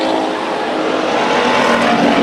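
Race cars roar together at a dirt speedway just after the green flag, a loud, continuous dense engine wash with no break, close and filling the whole stretch.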